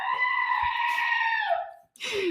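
A person's voice imitates a screaming goat with a long, loud, wavering bleat-like wail that trails off, then a short second burst after a brief pause.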